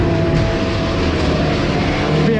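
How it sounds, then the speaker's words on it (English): A ghost train ride at a pleasure beach rumbles along its track in a loud, steady mechanical drone with a low hum and faint squeals, heard close up from inside the car. "we are on the ghost train"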